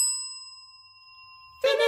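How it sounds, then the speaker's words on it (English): A small desk call bell bought at Staples gives one bright, clear ding that rings out and slowly fades, then a voice starts talking. "It's a call bell."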